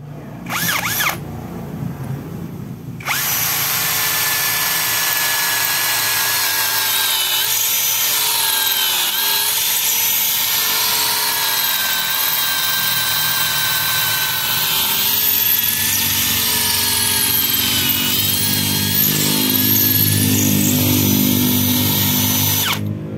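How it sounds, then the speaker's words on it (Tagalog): A Tanzu 13 mm brushless cordless drill runs into stone. After a few brief starts it settles into a loud, continuous high whine with a grinding edge, and its pitch wavers slightly as it bites in, with no talk. "So tara, test natin yung ating cordless drill na ito."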